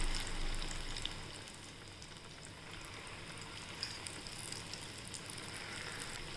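Green gram bhajiya fritters frying in hot oil in a kadhai give a steady, fairly quiet bubbling sizzle throughout, with a few faint pops and no speech.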